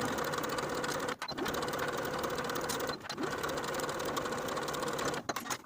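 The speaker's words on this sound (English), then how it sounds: "Sew both side seams with a 3/8 inch seam allowance." A sewing machine stitches the side seams of a cami top in a steady, continuous whir, pausing briefly twice, close and moderately loud with no talk.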